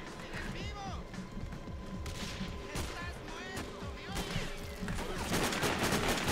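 Rapid bursts of gunfire in the shooter game Sniper: Ghost Warrior, a dense volley of sharp cracks and repeated shots with ricochet-like whines, loud and close, continuing with little pause.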